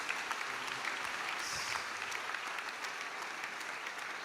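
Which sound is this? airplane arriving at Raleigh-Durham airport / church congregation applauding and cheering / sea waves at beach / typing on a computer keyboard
church congregation applauding and cheering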